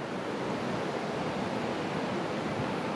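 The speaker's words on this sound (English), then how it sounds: "There you are, there's some falling water." Steady, rushing water pours continuously at an even loudness, like a nearby cascade, with no voices.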